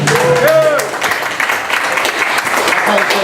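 An audience at a poetry event in the Noelke Gallery applauds a poet with a steady burst of clapping, and a voice calls out over it near the start.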